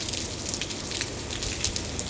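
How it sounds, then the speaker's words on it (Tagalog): Drizzle patters steadily outdoors, with dense, even droplet hiss and occasional sharper drops landing on nearby surfaces, continuous and fairly close, with no talking. "Tingnan yung patak ng ulan."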